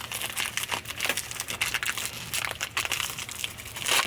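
A plastic bag is handled up close, crinkling and rustling in irregular bursts of dry crackle that rise louder toward the end, with no one speaking.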